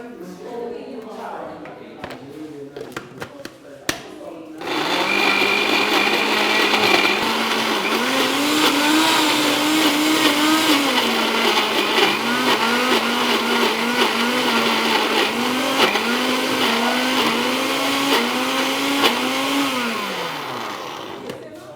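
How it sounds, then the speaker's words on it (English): A blender whirs loudly and steadily for about seventeen seconds, blending fruit with juice, its motor pitch rising and dipping as it churns, after a few seconds of quieter kitchen sounds and a brief clatter. "So we'll start blending. We could add a little bit more juice for texture."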